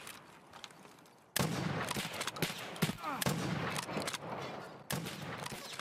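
Gunfire in the video game Escape From Tarkov on the Interchange map, a loud burst of repeated shots with sharp cracks continuing through most of the stretch, with a quieter lead-in before it and a voice talking over it.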